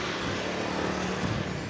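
A truck drives past in town, a loud, close, broadband engine and road roar filling the short stretch with no speech.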